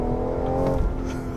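A 2017 BMW M240i engine revs hard in second gear, giving a loud, close, steady droning roar that holds for the whole moment with no talk over it.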